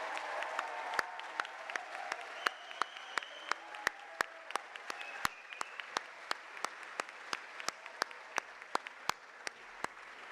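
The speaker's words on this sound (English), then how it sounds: "I'd really ask you to give a rousing round of applause to all of your teachers and staff" Students at a school prize day applaud their teachers and staff. Sharp, distinct claps ring out at fairly regular intervals over a soft tonal background.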